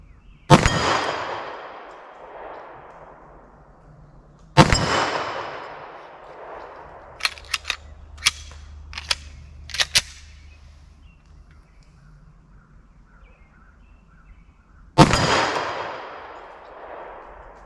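Three loud, sharp 10mm pistol shots ring out several seconds apart at a steel plate target outdoors, each with a ringing decay, with a quick run of fainter metallic pings and clicks between them.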